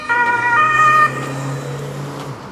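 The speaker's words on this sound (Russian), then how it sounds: "Скорая проезжает быстро." A loud ambulance siren wails close by on a street in Vienna, Austria, its tone dropping as the vehicle passes, over the hum of traffic.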